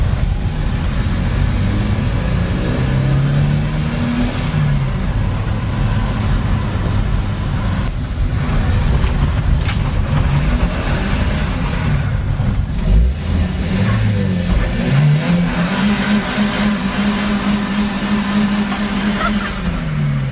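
A Volvo 940 drift car with a freshly swapped gearbox and flywheel drives along, its engine droning loudly and rising and falling in pitch as it revs through the gears, steady and close for the whole stretch.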